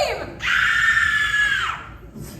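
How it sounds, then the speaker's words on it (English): A woman screams at a live special effects stage show at Universal Studios Hollywood, one loud, high, sustained shriek lasting over a second after a brief rising lead-in, close and alone. "Let's all hear how you would scream."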